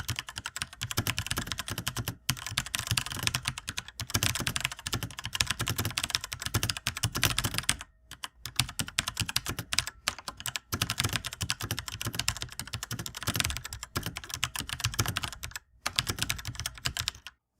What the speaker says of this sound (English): a quick typing test that I ran through for you guys so you can get an idea of how the switches sound